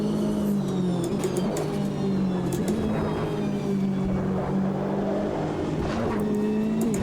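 Race car engine from Automobilista 2, Racin' USA pack, a steady sustained drone with gear-shift dips and rising pitch as the car accelerates on track, loud and continuous throughout with no talk.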